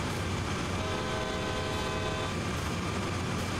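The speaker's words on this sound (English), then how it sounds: "So let's give it a whistle." A locomotive whistle sounds in Train Sim World 2 on the Sand Patch Grade, a loud sustained horn tone held over the steady rumble and clatter of the moving train.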